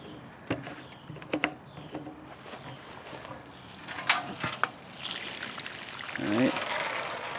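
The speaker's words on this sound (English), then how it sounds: "I'm going to pour this water out and see real quick for you." Water is poured out of a can outdoors, a faint splashing trickle with a few sharp knocks and clatters along the way, building into a louder gush near the end, with a voice nearby.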